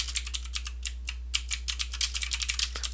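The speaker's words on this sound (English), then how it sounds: "so I'll type interest rate here" Keys on a computer keyboard clatter in a quick, uneven run of crisp close-up taps while a value is entered into an Excel spreadsheet, over a faint low hum and with no talking.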